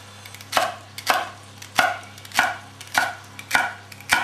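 A knife chops celery into rough, chunky pieces on a cutting board, with seven sharp, evenly spaced thuds falling about every half second, close and clear over a low steady hum. Nobody speaks.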